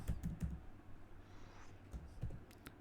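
Quiet, close-up tapping on a computer keyboard while C code is entered, a few quick bursts of keystrokes separated by short pauses, with no talking.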